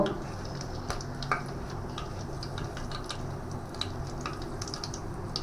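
Dried red chillies fry in hot oil for khichuri, a soft steady sizzle with scattered ticking pops and scrapes of stirring, fairly quiet and close throughout.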